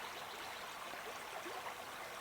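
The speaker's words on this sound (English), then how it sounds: "The flow of the water, soft and continuous, nourishing." Soft, continuous flow of a stream on Corsica in a natural setting, a steady broadband wash at low level with no voices, unbroken across the whole stretch.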